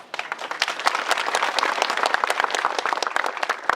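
An audience at the 110th Maharaja Birbikram anniversary speech event bursts into sustained, dense clapping that stays steady and loud throughout.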